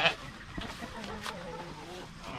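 Backyard chickens clucking at a farm at feeding time, a few short close clucks and squawks over faint background noise, with a quick sharp call at the start.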